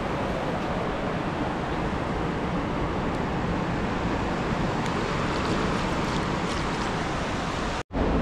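Ocean waves surge in at high tide on Qiding Beach, Taiwan, in rough weather: a steady, loud wash of surf with wind buffeting the microphone, continuous throughout, cutting off sharply near the end before resuming.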